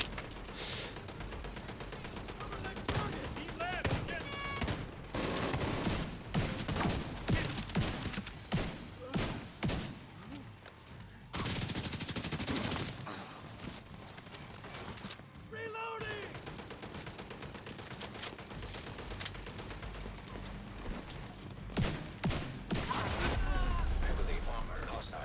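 In The Division 2, an enemy turret and other guns fire repeated bursts throughout a busy firefight, heard close and loud, with someone talking at times.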